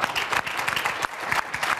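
Audience applause, a dense burst of clapping from a crowd at a talk on politics, steady and fairly loud throughout the short stretch.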